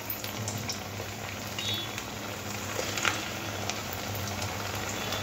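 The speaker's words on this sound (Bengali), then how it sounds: "এবার গরম তেলের মধ্যে একটা একটা করে দিয়ে দেব।" Potato fingers fry in hot oil over a medium-low gas flame, giving a steady, even sizzle that bubbles on at a moderate level without pause.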